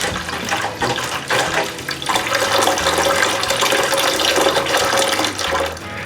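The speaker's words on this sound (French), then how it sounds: "si je rouvre le robinet d'eau chaude" Hot water tap at a cabin running steadily, fed from a water barrel rather than the well, a loud continuous rushing gush of water for several seconds with no voices.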